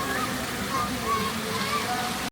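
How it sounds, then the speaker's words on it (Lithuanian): Fountains running in Druskininkai, a steady loud rush of splashing water that fills the whole stretch without pause. "fontanai dar Druskininkuose pilnai varo"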